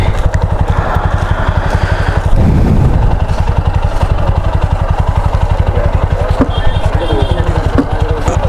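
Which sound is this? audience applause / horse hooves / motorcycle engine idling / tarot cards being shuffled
motorcycle engine idling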